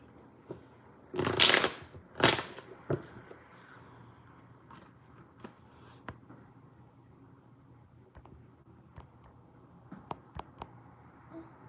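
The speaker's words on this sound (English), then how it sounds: "I'm going to shuffle these cards" Tarot cards are shuffled close by in two loud riffling bursts, followed by scattered soft taps and clicks as the deck is handled.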